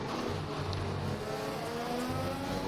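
A Formula 1 race car engine in the F1 2021 video game at the Hungary circuit hums with a steady whining drone, its pitch slightly rising and falling, held at moderate loudness with no voices.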